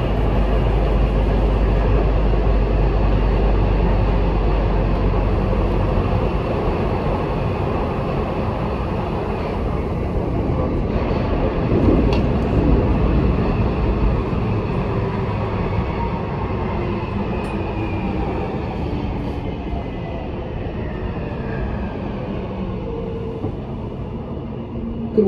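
A Nuremberg U-Bahn subway train at Großreuth bei Schweinau station gives off a loud, steady low rumble that slowly fades, heard close up with no talking.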